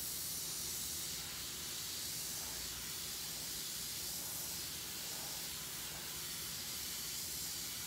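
An airbrush sprays paint onto a shirt, giving a soft, steady hiss that runs throughout at a quiet, even level with no talk.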